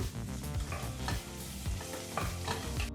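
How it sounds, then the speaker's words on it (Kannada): Onion frying on a medium flame makes a dense, steady sizzle close up, broken by repeated stirring scrapes every half second or so. "ಮೀಡಿಯಂ ಫ್ಲೇಮ್ನಲ್ಲಿ ಒಂದು ಎರಡರಿಂದ ಮೂರು ನಿಮಿಷ ಈರುಳ್ಳಿನ ಚೆನ್ನಾಗಿ ಫ್ರೈ ಮಾಡ್ಕೋಬೇಕು"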